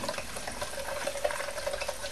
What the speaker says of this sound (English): it's bubbling up pretty good in there now